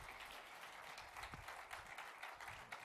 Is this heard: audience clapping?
yes